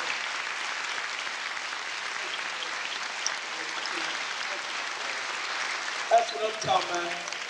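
A Los Angeles audience applauds in a continuous, moderate patter that goes on steadily, joined by louder shouts and cheers toward the end.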